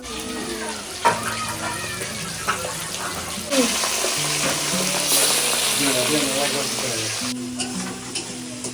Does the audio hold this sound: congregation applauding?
no